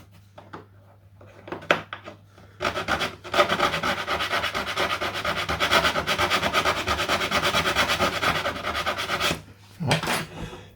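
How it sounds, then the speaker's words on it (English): Sanding the bottom edge of a wooden model aircraft canopy, steady close rasping strokes that run continuously for several seconds after a few short scrapes, then stop. "now all we need to do is just to sand that bottom line, just to get curvature back"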